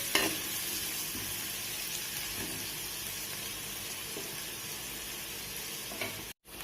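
Carrots, beans and other vegetables stir-frying in a hot pan for egg fried rice, a constant close hiss and sizzle with faint stirring, steady throughout until a brief dropout near the end.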